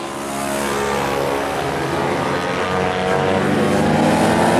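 Small MiniGP Junior racing motorcycles, less powerful than Pro-class bikes, scream past on a race track, with a loud, continuous high-revving engine drone that holds steady throughout, no talk.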